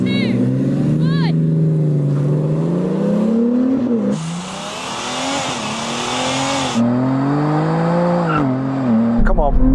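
A drag race car launches on nitrous with a loud, rising engine roar that climbs in pitch through several gear changes while people talk over it excitedly.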